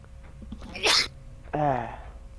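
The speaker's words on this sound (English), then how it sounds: "Sorry, I just sneezed." A single sharp sneeze bursts out, followed shortly by a short voiced exclamation, close and fairly loud against a quiet background.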